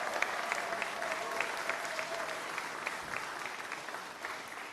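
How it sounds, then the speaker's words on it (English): A crowd applauds at a political rally where a U.S. Senate run is announced, sustained, fairly distant clapping holding steady throughout at moderate level. "let's give everybody a round of applause for being here."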